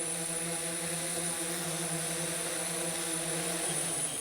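A DJI S1000/S900 multirotor drone descends to land, its rotors making a steady, loud droning buzz with constant harmonic tones, no voices.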